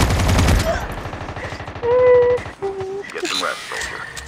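Rapid AK rifle bursts from Call of Duty Mobile crackle at the opening, followed by game tones and someone talking over scattered further shots.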